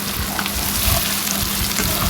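Chicken chaap meat fries in hot oil with a steady, close crackling sizzle that persists throughout the brief moment.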